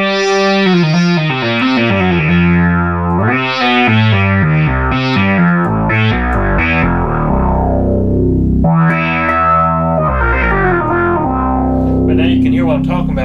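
A restored Minimoog analog synthesizer played as a loud, unaccompanied melodic line of sustained, buzzy tones that glide between notes and change octave, steady throughout.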